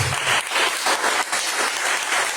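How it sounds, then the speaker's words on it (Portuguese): A group claps at the end of a Bible class, steady dense applause in pulsing waves, close and loud, with no talking over it. "as palmas do Alberto."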